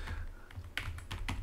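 Close, irregular keystrokes on a computer keyboard as an apt install command for a vsftpd FTP server is typed on an Ubuntu VPS, a quick run of several clicky taps with no talk.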